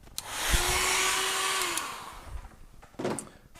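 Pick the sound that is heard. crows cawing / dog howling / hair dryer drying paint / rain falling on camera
hair dryer drying paint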